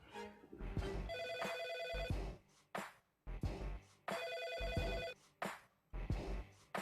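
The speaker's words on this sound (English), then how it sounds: "Guys, that's a house phone." A landline house phone rings in repeated bursts of electronic trilling, each about a second long, with short silences between them. The ringing sounds moderately close and plays alone, with no talking.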